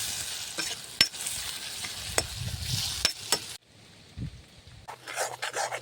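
Vegetable curry (sabzi) being stirred in a pan, a spoon scraping and rasping against the metal in uneven strokes over a soft sizzle, close, with a quieter pause near the middle before the stirring resumes.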